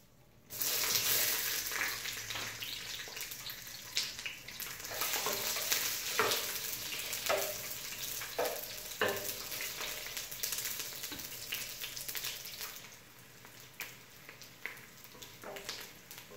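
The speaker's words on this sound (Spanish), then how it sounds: "aquí voy a citronar los ajos y la cebolla" Garlic and onion fry in lard with a close, crackling sizzle that swells after a quiet start, broken by stirring scrapes, then eases off near the end; no one speaks.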